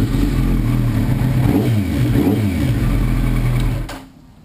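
A Kawasaki ZX10R sport motorcycle idles loudly and steadily, its engine note wavering slightly before cutting off abruptly near the end.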